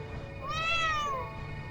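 A single cat meows in the video game Trails into Reverie, one clear rising-and-falling meow lasting under a second over quiet background music.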